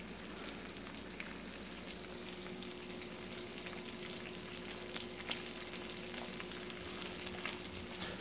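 Chicken breasts frying in a black pan over raised heat, a faint but continuous dense crackling sizzle with tiny pops, steady with no talking.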